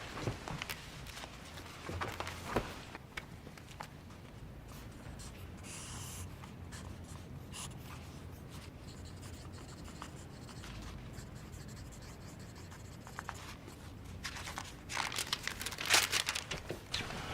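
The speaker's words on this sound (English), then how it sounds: "can you sketch a ground plan of this house, both floors?" Pencil scratching across paper while a house ground plan covering both floors is sketched, a steady quiet scribble with brief louder strokes and faint paper rustles, heard alone without talk.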